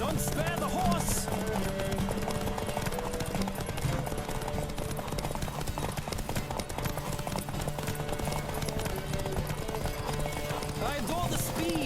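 A horse gallops in a video game race in The Witcher 3, a rapid, steady clip-clop rhythm throughout, with voices talking over the hoofbeats and a brief whinny.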